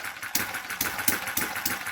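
A small machine motor runs nearby with a steady pulsing rhythm of about four beats per second. Each beat is a short mechanical thump with a clatter, and no one speaks.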